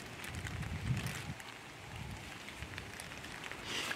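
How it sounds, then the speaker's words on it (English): Rain falling around a hammock campsite in a pine grove, a steady soft patter and hiss on surfaces with a low rumbling undertone, close and continuous with no talk. "So it's starting to rain, if you guys can hear that."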